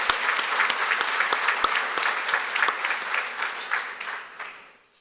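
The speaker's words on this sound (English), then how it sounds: "Let's have a round of applause for Marcia and the entire Chamber leadership" Sustained applause from a crowd at a city State of the City address, steady and full, with a few sharp claps standing out before it fades away near the end.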